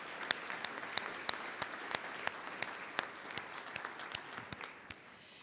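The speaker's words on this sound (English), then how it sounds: "Will you please give her a round of applause with me?" Audience applause at a gala dinner, with individual claps standing out over a steady wash of clapping, moderately distant, then fading out near the end.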